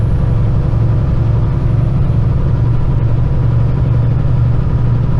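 Kenworth heavy truck diesel engine pulling up to 1500 rpm on a four-lane freeway, heard from inside the cab as a loud, steady low drone without pauses.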